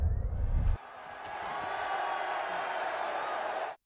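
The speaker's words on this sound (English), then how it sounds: "The crowd roars in a triumphant frenzy." A large crowd roars and cheers in a sustained, loud wash of voices that swells up after a short low rumble and holds steady until it cuts off.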